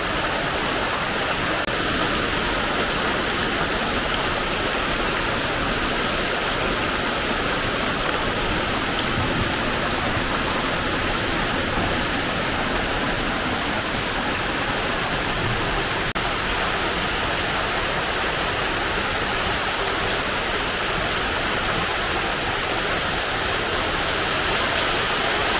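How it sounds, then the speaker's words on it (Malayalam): Heavy rain falling steadily for a long stretch, a loud dense unbroken hiss of rain pouring down close by, with no voices. "നല്ല മഴയാണ് കുറച്ച് നേരമായി"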